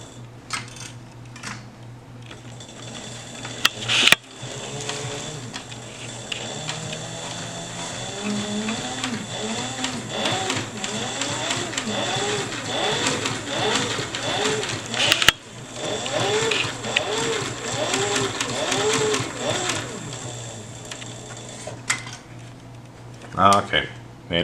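A sewing machine stitches a box pattern on leather, a steady mechanical whir with a rapid ratcheting tick that runs almost continuously and close, with a brief break near the start.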